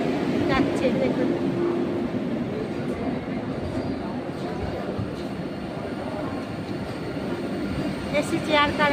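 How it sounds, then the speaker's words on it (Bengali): The Vande Bharat express passes through Kharagpur station with a steady rolling rumble and faint wheel squeal. Voices murmur over the passing train. "দেখছেন বন্ধুরা, বন্দে ভারত"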